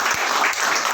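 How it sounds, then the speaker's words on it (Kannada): Steady applause from an audience at a certificate distribution ceremony for Kotak Mahindra financial advisors, dense and continuous for the whole moment with no voices over it. "ಒಂದು ದೊಡ್ಡ ಚಪ್ಪಾಳೆ ಅವರ ಎಫರ್ಟ್ ಇದೆ."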